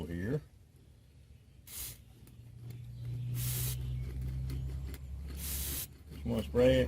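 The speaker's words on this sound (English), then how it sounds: "Just want to spray it and kind of try to work it down into that bearing." Several short hissing bursts from a lubricant spray can aimed at a wheelbarrow wheel bearing, separated by pauses, with a low hum underneath and a bit of talking at the start and end.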